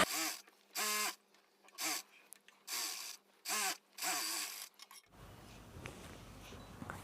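A sewing machine runs double stitching along a blouse in short, evenly spaced bursts of whirring, each cut off by a pause, close and fairly loud, before the motor stops and soft handling noise takes over.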